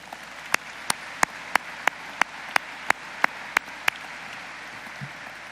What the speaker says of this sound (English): How about a round of applause for everybody who put this together?